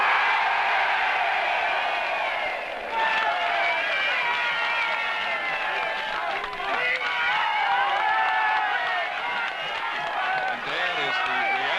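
A large crowd cheers and applauds in a steady roar at a 1959 general election result declaration in the Billericay constituency, as Conservative Edward Gardner is elected. Someone talks over the noise throughout.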